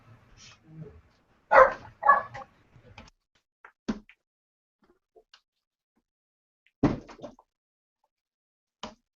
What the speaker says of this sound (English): I better stop because my dogs are barking